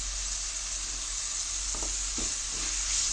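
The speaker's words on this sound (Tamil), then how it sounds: "தக்காளி நல்லா வதங்கணும் கொஞ்சம் வரமிளகாத்தூள் போட்டுக்கலாம்" Tomatoes and red chili powder sauté in a pan for hotel-style tomato chutney, a steady close hiss and sizzle with a few soft stirring scrapes, no voices.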